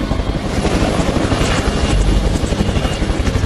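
A helicopter thunders close by, its rotor chop pulsing in a fast steady rhythm over a loud engine roar.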